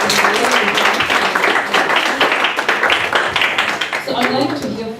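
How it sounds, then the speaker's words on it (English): Audience at an international school claps and applauds steadily for about five seconds, dense and close, with voices talking over it near the end. "let's just sing another round of applause"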